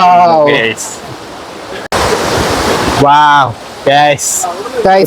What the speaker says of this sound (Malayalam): പാലരുവി വാട്ടർഫാൾസിന്റെ തൊട്ട് മുന്നിൽ എത്തിയിരിക്കുകയാണ്